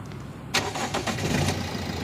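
A 2019 Toyota Etios GD engine cranks and catches after a brief pause, then settles into a steady close idle.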